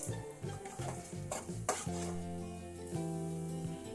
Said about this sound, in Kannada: ಮೊದಲಿಗೆ ಒಂದು ಬಾಣಲೆಯಲ್ಲಿ 2 ಸ್ಪೂನ್ ಎಣ್ಣೆ ಹಾಕಿ, 1 ಸ್ಪೂನ್ ಜೀರಿಗೆ, 1 ಸ್ಪೂನ್ ಸೋಂಪು ಹಾಕಿಕೊಳ್ಳಿ.